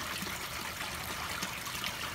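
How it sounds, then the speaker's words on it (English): Water from a small garden pond waterfall trickles and splashes steadily, a soft continuous wash heard close with no talking. "Waterfall's doing good thus far."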